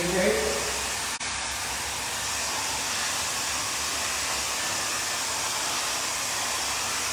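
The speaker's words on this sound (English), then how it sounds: "it's not going to work out with the noise of the hair dryer" A hair dryer fitted with a diffuser blows a loud, steady, breathy roar close by during a men's haircut. There is one brief click early on, and no one speaks.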